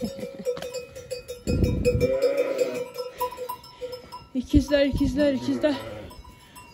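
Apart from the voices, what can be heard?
lambs bleating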